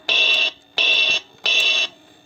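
An electronic keyboard's bell voice rings three times in an even rhythm, each bright sustained tone holding for about half a second before cutting off, clear and alone.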